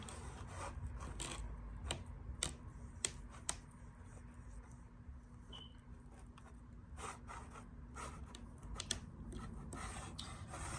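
Poppy seeds rubbed by hand over a surface make a soft, continuous gritty rustle with scattered small ticks, faint and close, with no talking.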